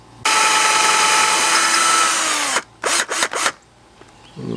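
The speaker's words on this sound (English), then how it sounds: "you got a lot of clogged up drill bit. You got to unclog them every once in a while. It may drill a whole lot better" Power drill with a clogged drill bit whirring loudly and steadily for about two seconds, winding down, then three short bursts of trigger revving before it goes quiet.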